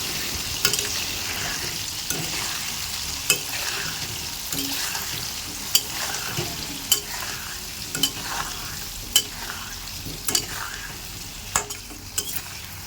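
Chicken with whole garlic cloves, turmeric and salt frying in a pan while it is stirred, a steady sizzle broken by regular scraping knocks of the spoon.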